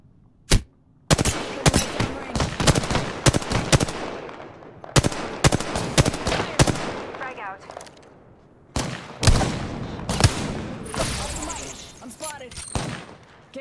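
Rapid bursts of gunfire in a video game shooter, loud sharp shots repeating in clusters throughout, with short pauses between volleys and game voices in the background.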